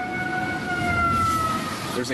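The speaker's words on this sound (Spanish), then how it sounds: "¿Oyes las sirenas?" Steady wailing tsunami warning sirens in Japan hold long tones across the whole stretch, with a low rumble of wind or crowd noise underneath.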